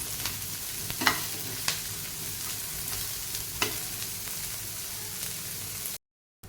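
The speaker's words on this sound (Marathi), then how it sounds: "कांद्याचा कलर बदलेपर्यंत हे कांदा आपण फ्राय करून घेऊया" Onions frying in a pan give a steady hiss and crackle, with a few sharper spatula scrapes, before the sound cuts off abruptly near the end.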